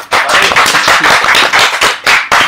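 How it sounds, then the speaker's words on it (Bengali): An audience at a post-SSC guideline seminar breaks into loud, dense clapping that runs close and continuous, with a few sharper bursts near the end. "ভাই হাত তালি দেন"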